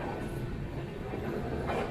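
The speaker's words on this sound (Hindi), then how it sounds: "हमारी ट्रेन डिपार्ट हो रही है नासिक से" Punjab Mail passenger train departing Nashik, a steady low rumble of wheels on rails heard from inside the carriage, continuous and moderately loud.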